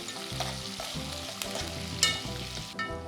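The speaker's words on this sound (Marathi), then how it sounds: "कांदे चांगले सोनेरी होईसपर्यंत आपल्याला परतायचे आहेत" Sliced onions sizzle and fry in a pan while being stirred until golden for a chicken dal dish, a steady crackling hiss with occasional scraping clinks of the spoon, close by and with no talk.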